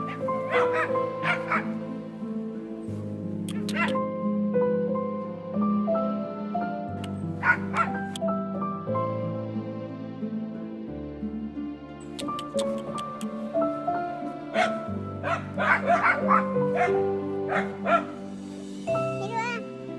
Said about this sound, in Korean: 꼬물꼬물 강아지 두 마리가 자기 집인 양